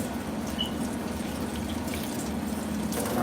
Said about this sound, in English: Rinse off your tomatoes.